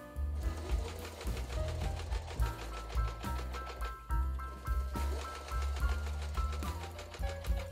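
A sewing machine stitches a black fabric band onto the top edge of an apron-style dress bib, running in rapid, rhythmic bursts with brief pauses, fairly quiet and close.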